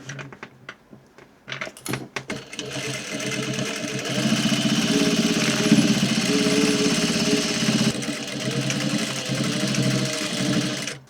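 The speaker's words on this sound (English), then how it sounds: "And then we're going to stitch a 1/4 all the way up." A sewing machine stitches a quarter-inch seam up the button fly of a pair of dungarees, a steady mechanical whir running for several seconds after a few stop-start bursts and handling clicks.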